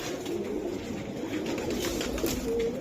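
Pigeons at a pigeon market coo nearby in soft, low, repeated warbles over a light background murmur, with no speech in the foreground.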